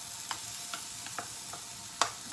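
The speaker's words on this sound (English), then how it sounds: "When you saute that about 1 or 2 minutes, then it's gonna get soft." Blended vegetables including carrot saute in a pan for gluten-free dumplings, a soft steady sizzle with a few scattered clicks and scrapes of stirring.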